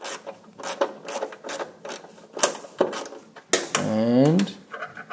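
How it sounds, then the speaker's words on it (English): A ground bolt is removed from the main wiring harness area of a car engine during a 3.8 turbo kit installation, with close ratcheting clicks and metallic rubbing in short bursts, then a brief squeaky scrape. "Then I want to go ahead and remove the ground bolt."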